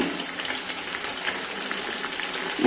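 Sliced big onions fry in hot oil for chicken biryani, giving a steady, bright crackling sizzle with small pops throughout, close and continuous.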